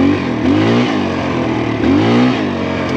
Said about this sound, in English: Now the bike is carbureted, it is not fuel injected, but just look how good the snap response is.